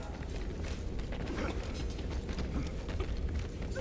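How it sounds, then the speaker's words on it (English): A rattling gun clanks amid creaking mechanical scraping and ratchet-like clatter in the video game Warhammer: Vermintide 2, a steady dense grinding texture throughout with no talk. "I hear the clank of a rattling gun."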